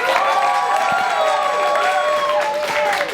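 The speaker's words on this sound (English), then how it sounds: "That's a lively clap." A comedy club crowd at a stand-up show claps and cheers loudly and continuously, with whoops and shouts riding over a steady wash of applause close by.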